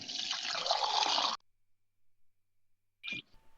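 Water is poured into a drink during a tabletop role-playing game session, a steady hissing splash for over a second that then stops, followed by a brief clink or splash a moment later.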